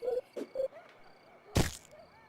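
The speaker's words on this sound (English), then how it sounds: "Pretty sure that was the sound of her spine breaking." A sharp, sudden bone-breaking crack rings out amid quiet chirpy video game sounds, a single loud snapping hit followed by fading echoes.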